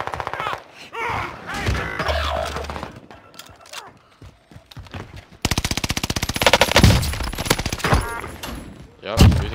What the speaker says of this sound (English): using the Cooper Carbine forever